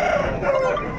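A rooster crows once at a bird and poultry market in Pileru, a close, strained, drawn-out call heard alone over faint background noise.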